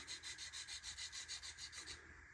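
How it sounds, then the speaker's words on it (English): A metal file rasps against a small model tire, about a dozen quick rhythmic back-and-forth strokes, close and steady before stopping near the end. "I'm just going to kind of take my file here. Kind of file that down just a little bit."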